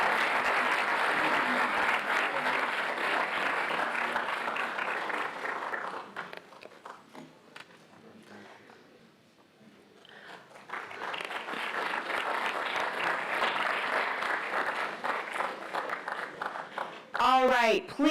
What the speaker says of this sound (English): please join me in a big round of applause for the class of 2023